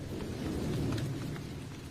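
Steady rain falling in a dense, even wash of noise, fairly loud and continuous for a couple of seconds with no talk.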